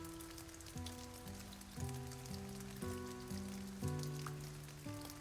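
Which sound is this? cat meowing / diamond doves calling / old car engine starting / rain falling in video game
rain falling in video game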